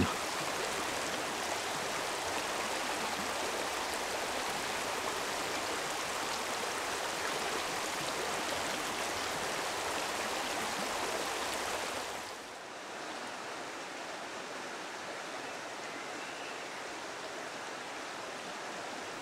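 Drôme river current flowing steadily in a broad, continuous rush of water, loud and close, with a slight drop in level partway through and no voices.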